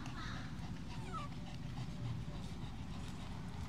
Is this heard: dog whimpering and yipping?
yes